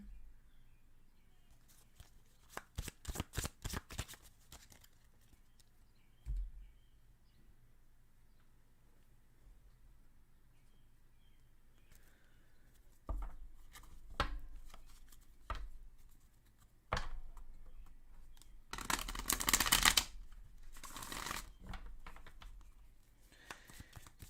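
Tarot cards being shuffled during a twin flame reading, heard as bursts of quick riffling and soft card taps, with a loud flurry of shuffling near the end and quieter rustling and handling between.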